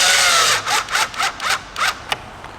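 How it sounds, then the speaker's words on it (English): Screws driven into a plastic side mirror housing on a Toyota Tacoma, heard as a string of short squealing whirs from a power driver, about six bursts in quick succession, close and loud with no talking. "Let's get these two screws put in."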